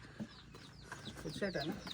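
Several chickens, including three grown roosters, cluck and squawk close by in short, overlapping bursts, with a faint voice underneath, in a village.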